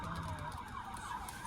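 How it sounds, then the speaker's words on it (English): An ambulance siren wails at a distance on a street, its tone rising and falling faintly and steadily under light background noise. "That was ambulance."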